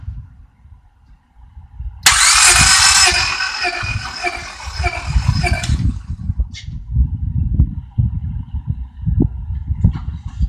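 A 4-cylinder car engine cranks on the starter during a compression test, a steady loud whirring burst that runs about four seconds before stopping, followed by low rumbling handling noise in the background.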